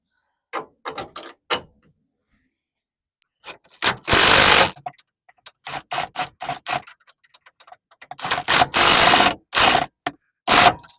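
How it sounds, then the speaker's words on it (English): Strut rod bushing bolts and nuts on a Nissan Frontier are tightened with a ratchet: loud, close bursts of rapid clicking come in uneven spurts, separated by short pauses. "Then we can now completely tighten this down"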